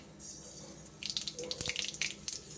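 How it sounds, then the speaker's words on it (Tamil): Mustard seeds and cumin hit hot oil for a Chennai street-style kothu parotta: a soft hiss swells into close, irregular crackling pops about a second in, with no talking. "இப்போ எண்ணெய் காய்ந்ததுக்கு அப்புறம் கடுகும் சீரகமும் போட்டுக்கலாம்."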